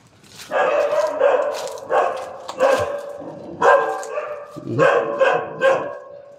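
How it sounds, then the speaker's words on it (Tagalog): Several dogs bark in a series of loud, close bursts with short pauses between them. "May mga aso."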